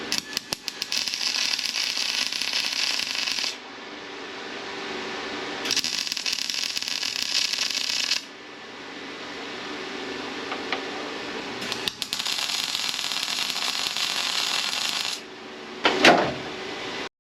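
Welding tacks on a headlight bracket for a Mazda FC RX7 front end: three steady, hissing, crackling buzzes of a few seconds each, separated by short pauses, then a brief metallic clunk near the end.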